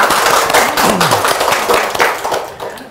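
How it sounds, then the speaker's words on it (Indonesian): Short burst of studio audience clapping on an Indonesian business talk show, loud and close, with scattered claps and a faint voice underneath. "Tepuk tangan."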